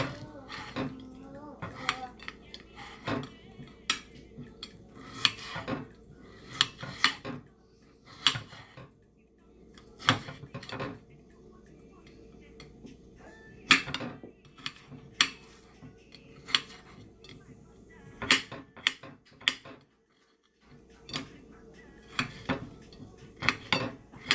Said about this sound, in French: je coupe finement ainsi pour pouvoir mettre dans mon mixeur